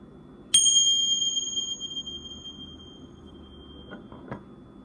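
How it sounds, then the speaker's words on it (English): One clear strike of a bell rings out sharply, its bright metallic tone lingering and slowly fading over a few seconds, followed by a couple of faint soft taps in an otherwise quiet room. "I'm just gonna sound the bell again."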